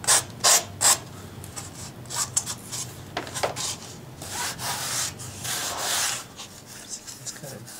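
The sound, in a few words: sanding block rubbed over aircraft foam fuselage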